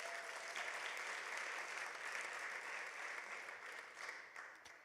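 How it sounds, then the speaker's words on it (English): Audience applause at a school district board meeting, honoring a group of students: steady, dense clapping from a room of people, moderately distant and fairly quiet, holding through and tapering slightly at the end. "Let's give them all a round of applause."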